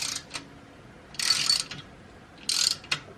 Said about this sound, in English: I'm gonna use my normal wrench, and I'm gonna go enough so this touches